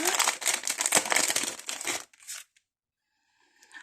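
Plastic packaging of craft cutting dies being opened by hand, loud close crinkling and tearing for about two seconds, then a few brief rustles and near silence.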